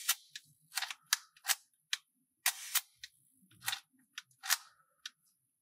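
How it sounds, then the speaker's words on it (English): Leica M3 rangefinder camera shutter fired repeatedly at slow speeds: sharp metallic clicks, many in quick open-and-close pairs with short gaps between them, close and crisp in a quiet room. "If the duration and the sound is different every time you press the shutter, that's a sign that something is wrong."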